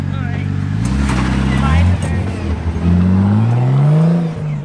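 A car engine revs hard during a burnout on badly worn tires, a loud sustained roar that swells and falls in pitch as the throttle rises and drops, close and continuous throughout.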